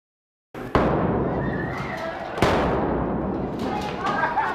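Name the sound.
gunshots during police active shooter training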